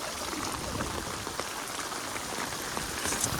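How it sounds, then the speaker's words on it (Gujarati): Heavy rain falls on farm fields in a continuous wash of hiss and spattering drops, moderately loud and unbroken, with no one talking. "મિત્રો ભૂક્કા કાઢી નાખે વરસાદ ચાલુ થઈ ગયો છે"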